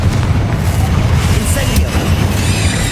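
Bombarda and Confringo spell explosions in Hogwarts Legacy, deep booming blasts with rumbling low end, loud and close, overlapping a spoken voice.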